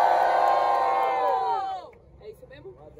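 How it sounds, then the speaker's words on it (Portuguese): Audience at a street rap battle roaring with cheers, whoops and shouts, loud and sustained before dropping away to scattered fainter voices. "barulho pra quem gostou das rimas de Naya"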